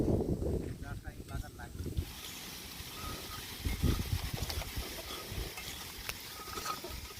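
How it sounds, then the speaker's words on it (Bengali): Gusty wind roars and buffets the microphone in uneven bursts at an overnight rainy-weather campsite under heavy clouds, with low rumbling throughout and a voice briefly heard at the start. "বাতাসও পুরো প্রচন্ড বাতাস হচ্ছে"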